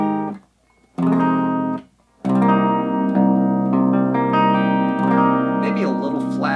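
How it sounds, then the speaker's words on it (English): Clean electric guitar through an amp, a few strummed chords with short pauses at first, then sustained ringing chords with a bright, slightly flat tone. "I switched to the clean channel on my amp"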